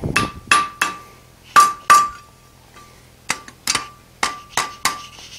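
A hot iron scroll is hammered at the edge of the anvil in a blacksmith's forge, giving sharp ringing hammer blows in two bursts: five strikes, a short pause, then seven more, each loud and close with a bright metallic ring.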